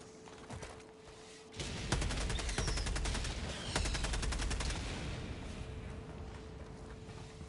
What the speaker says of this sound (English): Well, it's a barrage of bombs.